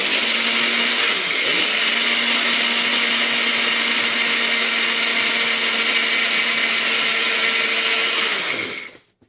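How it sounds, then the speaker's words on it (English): A Nutribullet blender grinds flaxseed in a sustained high-pitched motor whine lasting about nine seconds, loud and close, then winds down abruptly at the end. "We'll just blend up some flaxseed first."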